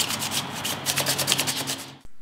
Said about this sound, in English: take your time with the sandpaper and scuff up all of the chrome with the 400 grit